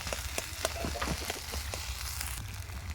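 Potato stuffing fries and is stirred in a pan, a faint soft sizzle broken by brief scraping and tapping strokes at an uneven pace.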